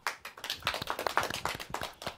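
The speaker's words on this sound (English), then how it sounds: "Can we get a round of applause for our band," A small audience claps for a band at a televised show, uneven, close-sounding hand claps in a brisk, irregular patter that swells slightly in the middle.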